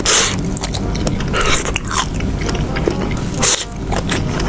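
Close, crunchy chewing of mushroom with repeated crisp bites and squeaky munching, loud and steady throughout, no talking.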